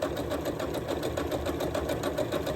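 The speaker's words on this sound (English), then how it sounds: "Just sew right down the seam allowance as straight as you can." A sewing machine runs steadily as it stitches straight down a seam allowance, with an even, rapid mechanical chatter throughout at close range and no voices.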